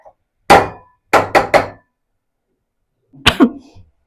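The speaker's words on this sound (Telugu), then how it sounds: "నాకు ఘాటు వల్ల కొంచెం దగ్గు వచ్చింది" A woman coughs from pungent fumes while cooking mutton curry in a home kitchen: one sharp cough, then a quick burst of three, and a last cough after a pause, each close and abrupt against a quiet room.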